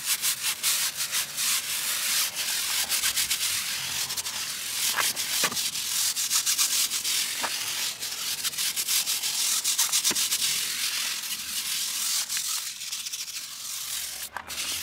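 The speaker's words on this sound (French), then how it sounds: "je vais passer un coup de brosse sur les flancs des pneus" A small brush dipped in car shampoo scrubs the tire sidewalls of a Fiat 595 Abarth, a continuous close, brisk scratchy rubbing with a steady back-and-forth rhythm.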